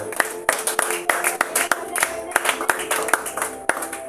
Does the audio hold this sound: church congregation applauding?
yes